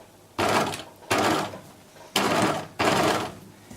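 A sewing machine stitches a beach bag in four loud bursts, each running about half a second to a second, with short quiet gaps between them and no talking.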